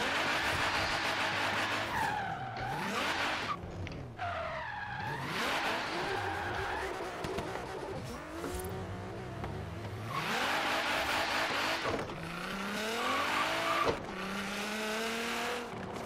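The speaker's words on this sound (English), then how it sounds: "Get 3 stars in the drift zone." A Nissan GT-R drifts in Forza Horizon 3 as its engine revs rise and fall through sweeping pitch changes, with long squealing tire slides running almost continuously, loud and up front.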